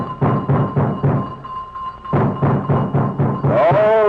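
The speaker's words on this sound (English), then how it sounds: "they rang the bell and thumped on the front door" Heavy thumping on a front door in an old-time radio drama, two series of five or six loud, evenly spaced blows separated by a short pause, close and resonant, with a rising whistling tone at the end.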